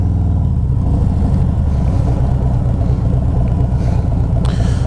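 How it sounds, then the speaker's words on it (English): A 2022 Harley-Davidson Road King with its 113ci V-twin rumbles loud and close at low revs, a deep throbbing pulse filling the whole stretch with a brief mechanical click near the end. "This thing does like to rumble though, especially at idle"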